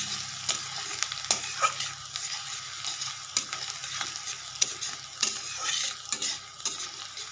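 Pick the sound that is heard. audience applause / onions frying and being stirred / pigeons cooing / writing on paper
onions frying and being stirred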